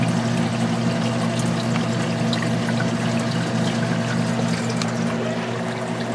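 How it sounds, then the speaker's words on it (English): A pump pours water from a reservoir into a reef aquarium. The result is a continuous, even splashing rush over a steady low hum, close and constant throughout with no talking. "You see the water coming in."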